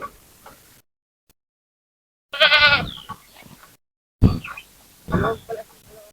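A billy goat bleats loudly in two wavering calls close by, separated by brief gaps and some quieter rustling.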